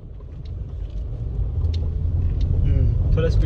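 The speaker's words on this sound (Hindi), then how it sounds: "अब क्लच पूरा छोड़ दो और उसको एक्सीलेटर को हल्का हल्का दो।" A car pulls away as the clutch is fully released with light throttle, a low engine rumble building steadily from inside the cabin, with brief voices over it.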